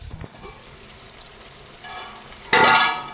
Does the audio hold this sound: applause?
no